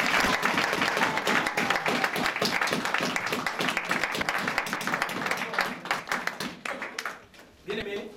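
A church congregation claps in praise to the Lord, with dense, rapid applause that is loud and close, then thins into scattered claps near the end while a voice speaks over it.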